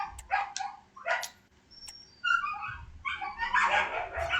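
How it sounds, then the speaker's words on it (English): Several puppies yip, bark and whimper excitedly, somewhat distant in a home setting, in scattered bursts that grow busier toward the end. "I'm sorry if you hear that in the background, because once again, my puppies like to go wild when I'm recording."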